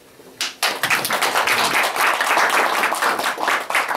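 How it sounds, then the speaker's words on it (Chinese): A room of attendees breaks into applause for a signing ceremony between Yunnan's provincial commerce department and Korean partners: after a quiet start, sustained clapping swells in and continues thick and lively to the end. "让我们掌声祝贺，云南省商务厅跟韩国联手的几个签约。"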